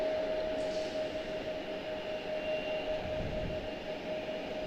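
PSA Airlines CRJ-900 regional jet departing Charlotte Douglas for Atlanta, a steady distant jet roar with a sustained whine held evenly throughout, no voices.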